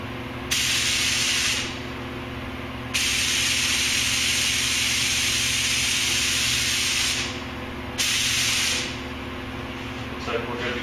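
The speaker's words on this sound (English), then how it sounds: "Do a quick check on the spray pattern here." A touch-up spray gun hisses out test patterns while refinishing the door jamb of a GMC Yukon XL liftgate with base and clear coat, giving three steady bursts of several seconds each over a constant low mechanical hum.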